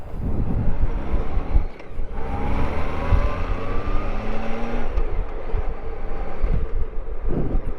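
A Honda Goldwing motorcycle accelerates up through the gears into top gear, its engine note climbing and resetting at each shift, heard from the rider's seat under steady wind rush.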